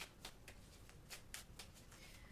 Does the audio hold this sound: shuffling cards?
yes